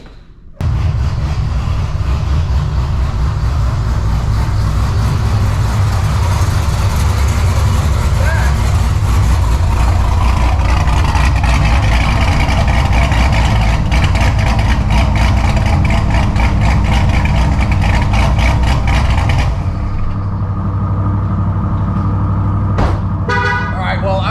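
A Chevrolet Corvette ZR1 engine runs with a loud, steady low rumble for about twenty seconds, then drops in level near the end as a few sharp clicks sound; a voice talks over it.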